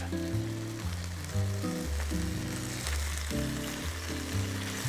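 Stir-fried vegetables, including peppers, sizzle in a pan over turned-up heat, a steady hiss heard under prominent background music.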